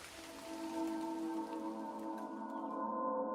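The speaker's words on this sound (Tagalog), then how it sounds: "Lumalakas na ang ulan." Heavy rain pours steadily on a hard surface at close range, a dense continuous hiss with drips, holding level throughout with a faint tonal hum beneath and no voices.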